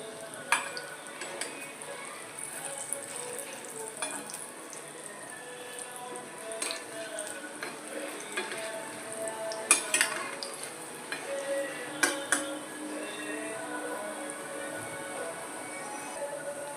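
Chana kofta, balls of fresh cheese curd, fry slowly in oil over a very low gas flame, giving a steady soft sizzle broken by occasional sharp clinks and scrapes of a utensil against the pan.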